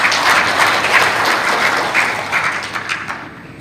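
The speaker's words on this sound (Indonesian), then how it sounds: "Kita kasih tepuk tangan dulu." Indoor audience applause at a teacher training and infrastructure aid handover event, with steady, dense clapping that stays loud throughout before thinning slightly near the end.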